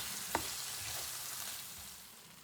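Tomatoes and tomato paste fry in a pan for bulgur pilaf, giving a steady close sizzle with a brief clink of a utensil near the start.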